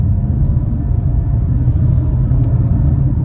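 A 2022 Toyota Camry LE in eco mode pulls at half throttle with a steady, loud low engine drone and road rumble, held constant inside the cabin without talk.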